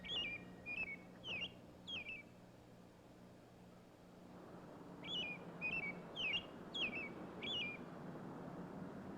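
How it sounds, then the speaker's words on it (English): A bird whistles in short chirping phrases from a 1962 horror film soundtrack, the repeated calls played forward in one quick group, then again after a pause in a second group, faint over a low background hum. "Is that bird whistling backwards the second time?"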